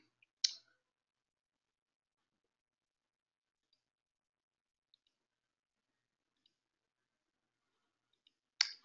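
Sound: computer mouse clicking

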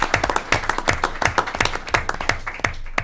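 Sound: applause at a board meeting

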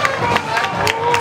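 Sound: applause

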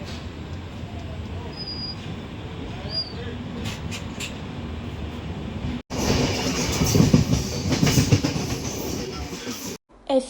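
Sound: train moving on rails

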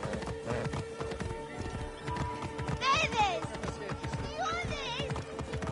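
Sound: horse galloping in video game

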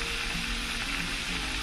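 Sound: meatballs frying in a pan

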